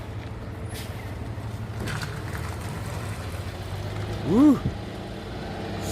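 A truck hauling two cars pulls away with a low engine drone running throughout, then gives a brief loud horn toot near the end; a voice whoops over the departing rumble.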